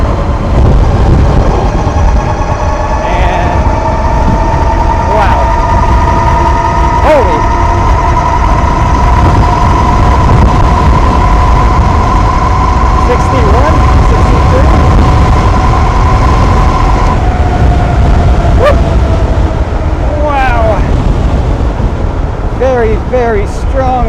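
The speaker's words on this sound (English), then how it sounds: "Very strong wind." Strong headwind buffeting while riding a Wired Predator electric bike at around 60 mph on dual motor, a loud continuous roar of wind across the microphone with a steady motor whine underneath, and a rider talking briefly.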